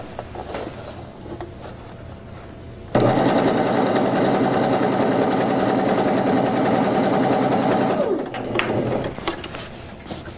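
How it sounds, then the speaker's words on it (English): A sewing machine runs one long steady burst of rapid stitching on tote bag fabric, loud and close, preceded and followed by quieter handling sounds and a brief knock. "I'm just steering, allowing the machine to pull the material forward."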